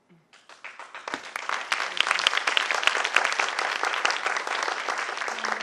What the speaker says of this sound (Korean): 제가 박수를 2번 받고 싶어서 뒤에 내용을 좀 더 준비했고요